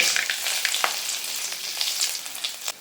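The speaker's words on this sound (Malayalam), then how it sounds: "എണ്ണ നല്ല ചൂടായി വന്നിട്ടുണ്ട് അതിലേക്ക് കുറച്ച് കടുക് കൊടുക്കാം" Mustard seeds and three dried red chillies crackle in hot oil: a bright, close, continuous sizzle peppered with quick popping bursts, with no talking.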